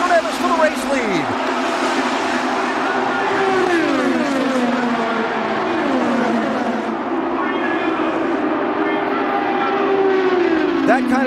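IndyCar race cars on the final lap of the Indianapolis 500, engines screaming with rising and falling pitch sweeps as cars pass, a loud continuous roar under excited commentary.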